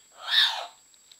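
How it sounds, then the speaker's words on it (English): A single squawking parrot call, fairly close, rising and fading over about half a second, with a couple of faint clicks afterward. "That noise in the background is the parrot"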